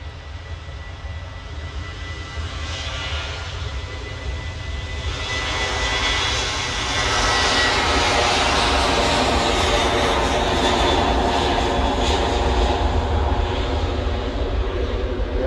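A Ryanair passenger jet approaching at Manchester Airport, its engine roar steady at first and then swelling louder and fuller as it draws nearer, a continuous broad rumble and whine.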